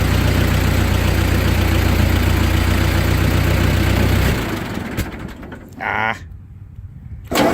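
A 2N engine runs with a loud, steady low rumble for about four seconds, then drops away into quieter sputtering and mechanical rattles, with a brief voiced exclamation.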